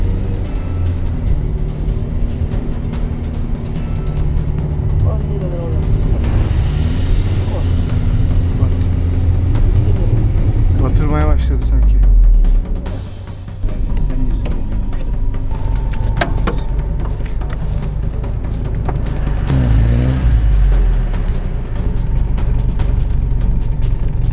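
A car engine drones steadily throughout, with creaks and mechanical rattles as it moves over a rough, muddy road, while people talk over it.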